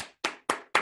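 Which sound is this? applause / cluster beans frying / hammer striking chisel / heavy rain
applause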